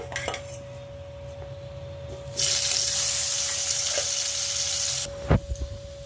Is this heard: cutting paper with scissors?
no